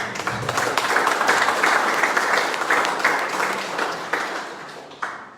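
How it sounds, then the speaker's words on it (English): A crowd at a community recovery meeting applauds steadily, dense clapping that holds for several seconds before thinning out at the end. "So give yourselves a round of applause as well."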